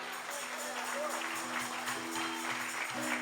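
A Pentecostal church congregation applauds God during a sermon, producing a soft, steady wash of clapping under sustained keyboard tones, with voices faintly mixed in.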